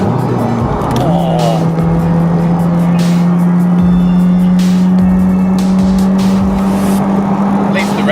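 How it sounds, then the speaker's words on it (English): A modified Nissan Micra with a swapped engine revs hard close by, holding a loud, steady high-rev drone that sounds like it bangs against the limiter, with brief dips between pulls and people talking over it. "You want to hear that engine, don't you?"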